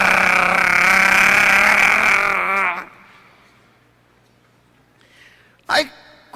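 A man vocally imitates a motorcycle, a loud buzzing, wavering engine-like drone held for nearly three seconds before cutting off, followed by quieter speech.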